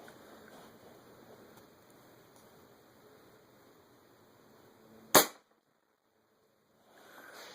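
.25 caliber Marauder air rifle fired at 2900 PSI, a single sharp, loud crack after quiet background hiss, followed by a moment of near silence.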